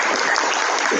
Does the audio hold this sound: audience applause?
yes